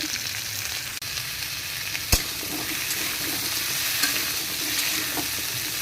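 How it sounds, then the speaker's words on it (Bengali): Potatoes fry in a pan with a continuous, even sizzle, close and steady, with one sharp tap partway through and no voices. "এইদিকে আলু ভাজা হচ্ছে"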